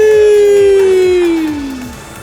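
A live crowd at Awesome Games Done Quick 2025, watching a Mario Kart 8 Deluxe run, lets out a loud, sustained unison "wee" during a glider section, its pitch sliding steadily downward over about two seconds.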